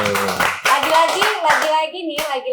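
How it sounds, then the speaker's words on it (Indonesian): Indonesian podcast studio audience clapping hands for a few seconds, lively broadband claps mixed with cheerful voices and a child-like shout over the top. "Boleh kita kasih tepuk tangan dulu nih"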